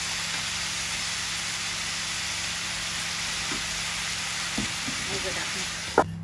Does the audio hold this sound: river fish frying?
yes